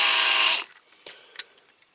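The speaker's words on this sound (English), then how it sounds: "here's a small drill bit first, or smaller one first" Small drill bit drilling into a die-cast metal Corgi Holmes toy wrecker during restoration: a loud high-pitched whine for half a second, then stops, followed by a few light clicks.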